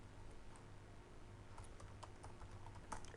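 Commands are typed on a computer keyboard while configuring a Linux NFS server, with sparse, quiet key clicks over a constant low hum.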